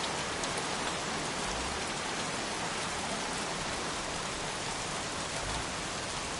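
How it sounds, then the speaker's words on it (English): Steady rain pours down in the Heavy Rain video game, a dense, even hiss of drops on surfaces that carries on unbroken throughout, with no voices. "Goddamn rain. Soaking wet."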